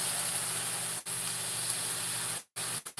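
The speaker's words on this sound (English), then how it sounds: "I'm going to squeeze lemon juice in here" Lemon juice sizzles in a hot cooking pan with a loud, steady hiss. The hiss breaks off briefly a few times and then resumes, and no one speaks.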